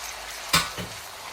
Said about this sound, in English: Stir together on the medium heat.